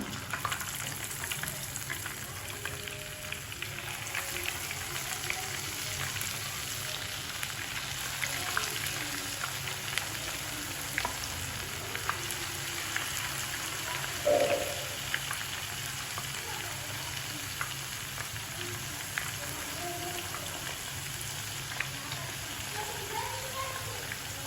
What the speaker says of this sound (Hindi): अब हम इनको करेंगे फ्राई